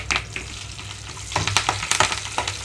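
Curry leaves, lentils and chopped dried red chillies fry in hot oil for amaranth chutney, giving sharp crackling sizzle bursts and stirring scrapes that grow busier toward the end.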